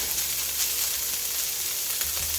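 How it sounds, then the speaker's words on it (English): Pork carnitas frying in a pan on high heat, a steady loud hiss and crackle of sizzling fat with faint occasional pops, close and continuous. "So we're going to fry this up on a high heat until it becomes crispy on the edges, but still tender in the middle."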